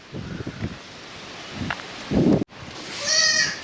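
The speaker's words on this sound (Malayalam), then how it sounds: "അട്ടപ്പാടി ബ്ലാക്ക് എന്ന് പറയുന്ന ആടുകൾ അവിടെ ഉള്ളത്." Attappadi Black goats bleating at a large goat farm in the Attappadi hills, with a distinct nearby bleat near the end over rustling and wind-like outdoor noise.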